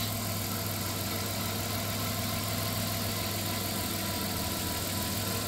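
A 1997 Dodge Caravan LE engine idles steadily, a constant low hum with a smooth even drone and mechanical whir, close and unchanging throughout with no talking.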